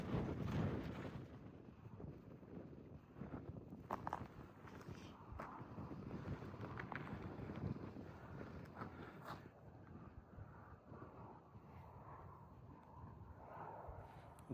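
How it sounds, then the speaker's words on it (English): Strong wind gusting over a microphone on a tree-lined trail during a long-distance hike, a continuous buffeting roar with rustling and occasional thumps, close and loud throughout with no voices. "It is super windy."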